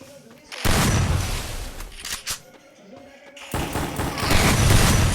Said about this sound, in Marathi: त्याला पट्टाचा हेडशॉट देऊ आपण.